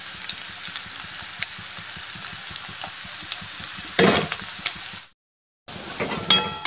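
Egg curry with fresh coriander sizzles softly in a frying pan while a utensil stirs and scrapes in a regular rhythm, ending with a few louder clinks and a brief gap.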